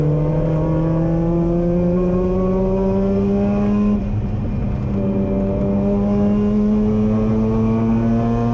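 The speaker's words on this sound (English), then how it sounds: "What the hell is that exhaust on that?" Rotary-engined race car at Croft circuit, its buzzy exhaust note rising in pitch under acceleration, dipping briefly at a gear change, then climbing again, loud and sustained.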